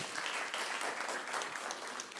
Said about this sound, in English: Shall we give a round of applause?